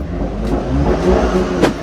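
An Audi RS4 fitted with a Milltek exhaust, modified to 700 bhp, gives a deep, loud, close engine rumble with slight rises in revs, steady throughout and with no talk.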